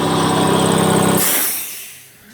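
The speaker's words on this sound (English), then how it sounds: "I'm gonna turn this air compressor off." Air compressor in a tire shop droning loud and steady up close, then cutting off abruptly and winding down into quiet.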